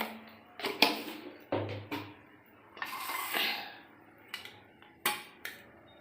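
Metal lid set on a cooking pot while boiling eggs and potatoes with green chilli and salt, a few sharp clanks and scrapes of metal on metal, close and fairly loud, with a longer rattling scrape mid-way.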